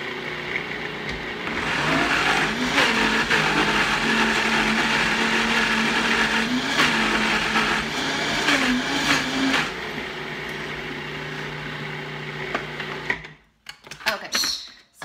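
A Vitamix blender and a food processor both run at once, a loud steady motor whine with shifting pitch that lasts about thirteen seconds, then cuts off into near silence and a few clattering knocks.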